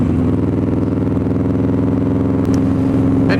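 A 2003 Buell XB9S with a tuned exhaust cruises at steady speed, its V-twin giving a loud, even, low rumbling throb close by, with no talking.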